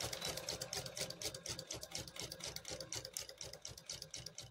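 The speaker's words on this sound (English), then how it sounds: "We're going to back stitch a little bit and then we'll just keep sewing." A sewing machine stitches a quilt in a fast, even mechanical chatter of needle strokes, close and steady throughout with no pauses or voices.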